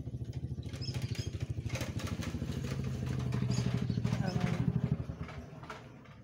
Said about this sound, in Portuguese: Moto fazendo barulho aqui.